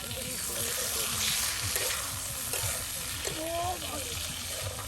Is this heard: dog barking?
no